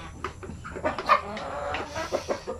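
Basilan-breed chickens, including a broody hen, cluck and murmur nearby in short, scattered calls, several birds chattering over a quiet background.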